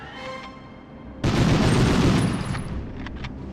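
Machine gun fire from armed scientists in the World War II shooter game Medal of Honor, set in a V2 rocket plant, erupts suddenly after a quiet stretch into a loud, sustained burst that tapers off with a few later shots.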